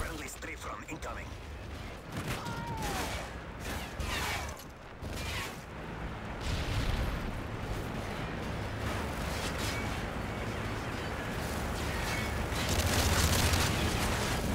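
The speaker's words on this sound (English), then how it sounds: "Friendly strafe run incoming." Strafe-run air strike explosions rumble through Modern Warfare 3 multiplayer, a dense rolling barrage of booms and gunfire layered over heavy continuous noise, with voices over the top.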